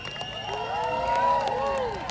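A crowd at an India Independence Day parade in Manhattan cheers and claps, with shouts and whistles rising over the noise and voices talking throughout.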